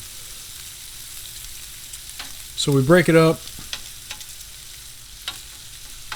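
Steady crackling sizzle of meat and bacon frying on a Blackstone 22-inch griddle, with a short spoken phrase and a few scraping clicks of a utensil.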